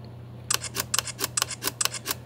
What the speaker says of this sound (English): So that's continuous shooting.